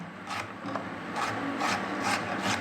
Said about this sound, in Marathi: आता विळीच्या साह्याने मी टॉमॅटो बारीक चिरून घेत आहेत